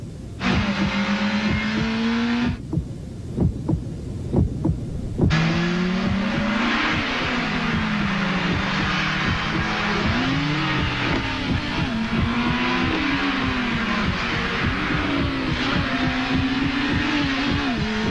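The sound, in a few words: Acura RSX car engine revving in TV commercial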